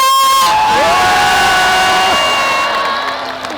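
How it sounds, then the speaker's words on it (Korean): A large outdoor festival crowd at an arts and culture festival on Jindo island claps, cheers and whoops loudly together, with a sustained high-pitched shout riding over the roar. "자, 한더 크게 진도가 흔들릴 정도로 박수와 함성!"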